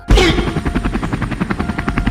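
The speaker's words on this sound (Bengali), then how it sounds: "আরে হেলিকপ্টারের আওয়াজ কোথা থেকে আসছে দেখি তো।" Rapid, steady thumping of a helicopter rotor, fairly loud and continuous, with no voices.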